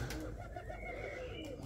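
English tumbler pigeons cooing in a neighbour's loft, a soft continuous murmur of several birds close by with steady low rumbling throughout.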